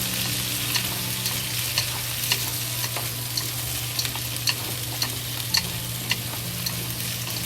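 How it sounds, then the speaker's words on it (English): Pork and vegetables stir-fried in a wok with onion and star anise, a steady loud sizzle with repeated sharp scrapes and clanks of stirring throughout, no talking. "We just fry until the vegetable is fully cooked."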